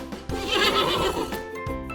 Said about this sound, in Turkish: Atlar kişner.